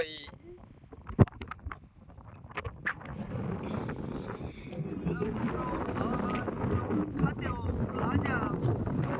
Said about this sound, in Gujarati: પવન કેટલો પવનનો અવાજ આવતો છે